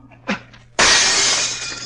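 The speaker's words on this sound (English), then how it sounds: "Smash the glass with that chair" Glass window smashed with a chair: a short knock, then a loud, sudden shatter with crashing shards and tinkling debris that spreads and slowly trails off, heard up close with no talking.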